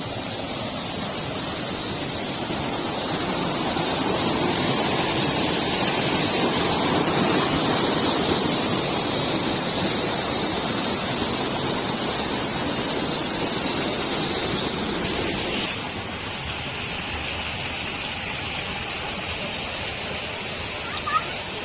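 Rushing water at a waterfall by a restaurant in Çağlayan, Erzincan, a loud continuous broadband roar that swells midway, then drops to a quieter steady wash, with a voice heard faintly.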